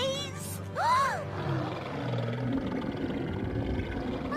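A cartoon stomach growls in a long, warbling, rumbling groan that rises and falls, loud and close, then trails off into a low, muffled rumble with no speech.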